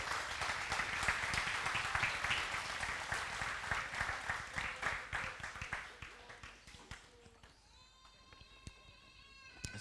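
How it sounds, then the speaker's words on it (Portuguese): A church audience breaks into sustained applause, a dense wash of clapping that holds steady for several seconds before thinning and fading out as tonal sound takes over at the end. "Dê um aplauso a Jesus, então."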